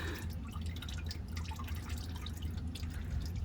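Engine oil drains from a 1988-1999 Chevy C/K1500 truck with a 5.7 V8, a faint, steady trickle and drip of liquid over a low background hum.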